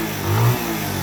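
A superbike arriving with one brief, mid-pitched engine rev that swells and fades within a second, fairly close by.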